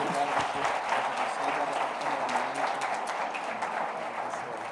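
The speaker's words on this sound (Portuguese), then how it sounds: "Agora a igreja aplaude Jesus mais uma vez" A church congregation applauds during a Sunday celebration service, steady dense clapping from many hands throughout, fairly distant and uniform with a murmur of voices beneath.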